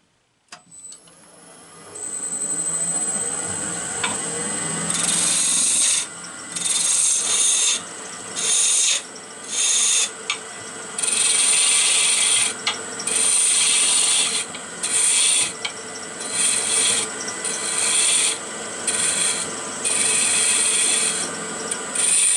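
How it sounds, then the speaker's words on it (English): Wood spindle being roughed down on a lathe with a spindle roughing gouge, a steady close rasping hiss over the machine's hum, cutting in repeated bursts with short pauses between passes, no speech. "right now I'm going to be using my spindle roughing gouge just to get the basic shape"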